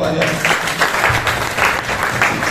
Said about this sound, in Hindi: अपने लिए तालियां हो जाए।